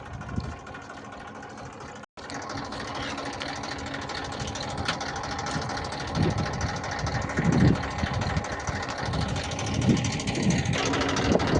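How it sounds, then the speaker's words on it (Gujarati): A tractor engine idles steadily at a farm field during light rain, a close, even mechanical chugging that stays level throughout, with a brief dropout near the start. "ચાલો અત્યારમાં આપણું ટ્રેક્ટર અહીંયા પડ્યું છે,"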